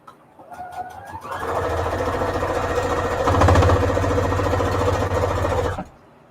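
A sewing machine runs steadily for several seconds, a fast rhythmic whirring stitch that picks up speed midway, then stops.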